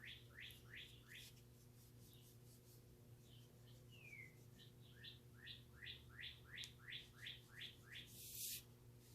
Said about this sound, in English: I don't know if you can hear the bird in the background or not.